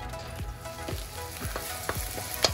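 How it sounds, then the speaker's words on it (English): Plant-based taco filling sizzles steadily in a hot pan, a constant crackling hiss with occasional sharper pops and stirring scrapes. "sizzling away bloody nice there"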